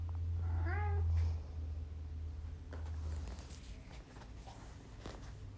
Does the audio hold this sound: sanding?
no